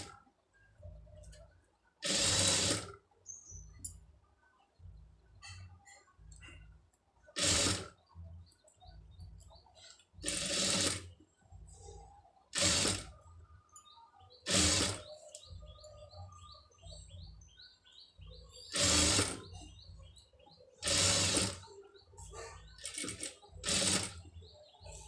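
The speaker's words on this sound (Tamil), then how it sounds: "இந்த ஓரத்து தையல் வந்து போட்டுருங்க" Short bursts of a sewing machine stitching an edge seam on fabric, loud and close, separated by pauses, with faint bird chirps in the background.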